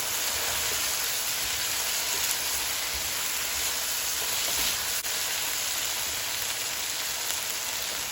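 Fried rice with chicken, shrimp and dark soy sauce stirred in a hot pan, giving a steady, even sizzle and hiss that runs the whole time with no talking.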